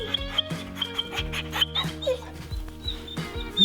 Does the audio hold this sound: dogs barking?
yes